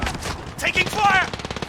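Rapid gunfire in a shooter video game, a short close rattling burst under a voice calling out.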